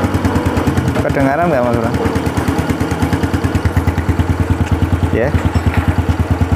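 A Honda Grand motorcycle engine idles at about 1500 rpm after a clutch-cover knocking fix, giving a close, steady, even putter of rapid pulses while someone speaks briefly over it.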